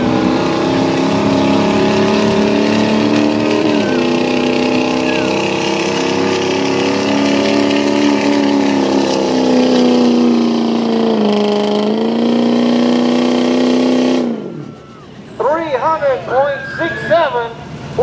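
A 2006 Ford F250 truck roars down a drag track at a truck and tractor event in South Boston, Virginia, with a loud sustained engine drone that climbs through gears before cutting off abruptly. Chirping or squealing sounds follow after the engine stops.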